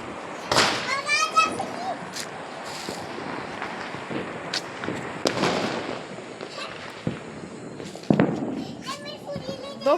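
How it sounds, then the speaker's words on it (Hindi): Many firecrackers go off during Diwali celebrations, sharp scattered bangs and crackles at varied distances, with children chattering and calling out in between and wind buffeting the microphone. "बहुत सारा पटाखा बज रहा है ना।"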